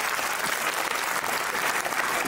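A crowd at a state-level abacus and mental maths championship claps loudly and continuously, a dense, even roar of applause filling the whole moment.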